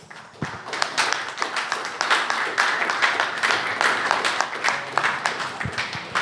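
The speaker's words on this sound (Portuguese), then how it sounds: "Uma salva de palmas ao Rei dos Reis." Church congregation clapping in praise during a worship service, a dense, steady patter of many hands near and fairly loud for about six seconds, with a few louder individual claps standing out.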